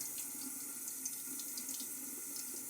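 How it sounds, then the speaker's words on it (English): Water from a sink tap splashes steadily onto a shaving brush, a continuous close hiss with small spattering bursts and no voices. "So we're going to just sprinkle some water here on the brush"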